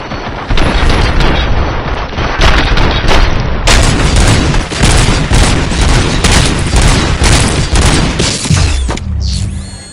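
Sustained gunfire from the video game RoboCop: Rogue City, loud and dense, with rapid overlapping shots and heavy booming impacts running almost the whole stretch before cutting off abruptly near the end.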